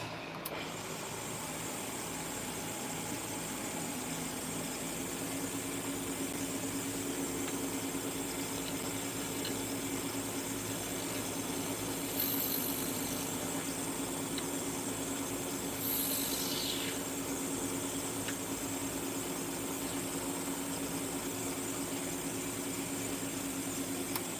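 A lathe spins at 3,000 RPM while parting off the face of a cap, giving a continuous steady whine and hum with a faint rising squeal partway through, and no voices.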